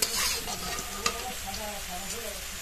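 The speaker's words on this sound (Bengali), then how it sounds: "ওই তেলের মধ্যেই বেগুনগুলো দিয়ে ভেজে নেব" Eggplant pieces frying in hot oil give a steady, close sizzle and hiss, with a couple of sharp clinks from a utensil against the pan and faint voice-like tones under the frying.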